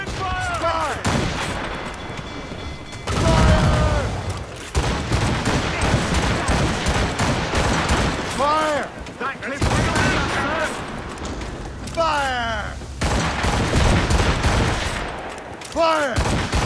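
Ship cannons in Assassin's Creed Rogue boom in repeated loud volleys and rolling barrages, close and heavy, with shouted commands and voices between the blasts.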